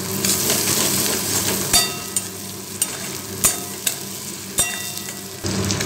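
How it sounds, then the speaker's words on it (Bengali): Ginger-garlic paste sizzles steadily on a low flame while a spoon stirs it, sending out a handful of sharp taps and scrapes against the pan. "আমি প্রায় 1 মিনিট ধরে লো ফ্লেমে রেখে ভালোভাবে কষিয়ে নেব।"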